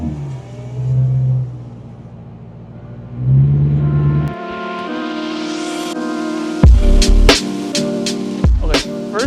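BMW E92 M3 engine revving loudly up close, a rising howl that climbs steadily in pitch, then a series of sharp, barking throttle blips with deep pops between them.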